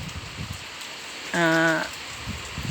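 Steady monsoon rain in Hassan district, Karnataka, hissing throughout, with a brief tonal harmonic sound cutting in near the middle.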